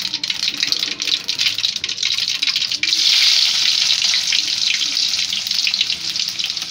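Steady, loud sizzle of oil and food frying in a pan for a carrot and prawn stir-fry, a dense hiss that runs without a break from start to end, with no talk.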